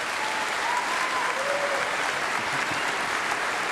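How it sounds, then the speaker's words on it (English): A crowd at a North Idaho College commencement ceremony applauds: a thick, continuous wash of clapping from many hands, steady and fairly loud throughout, with faint cheering. "please join me in a round of applause recognizing him"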